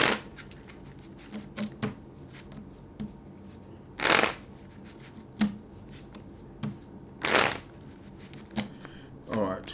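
Tarot cards being shuffled in several quick riffling bursts, each a brief crisp flutter, with pauses and small handling taps in between.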